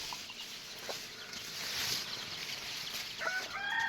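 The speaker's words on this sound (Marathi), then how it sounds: "आता सगळ्या कोंबड्या आतमध्ये आलेल्या आहेत" Desi chickens crowded inside their coop cluck and call over a steady, noisy background, with sharper squawks near the end, close and fairly loud, with no talk.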